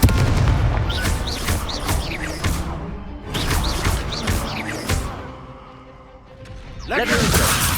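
Explosive bursts of the Confringo fire spell in the Hogwarts Legacy video game, several loud booming crashes in quick succession with crackling debris, a brief lull, then another blast at the end.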